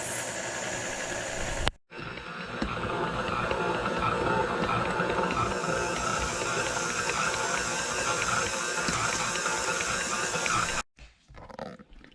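Stand mixer working white sandwich bread dough, a steady close mechanical whir with a rhythmic churning texture that runs continuously for several seconds between brief stops.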